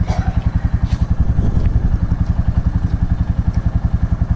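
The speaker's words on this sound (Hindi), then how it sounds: "तो बाइक को थोड़ा वार्म अप होने देते हैं।" A motorcycle engine idles steadily, its low rhythmic thumping even and continuous, with faint clatter on top.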